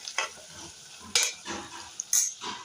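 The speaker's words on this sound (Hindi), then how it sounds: "देखो मैं गोश्त फ्राई होने रख दी, कड़क होना।" Meat frying in hot oil in a home kitchen pan, with a soft sizzle under sharp clinks and scrapes of a stirring spoon against the pot at irregular moments.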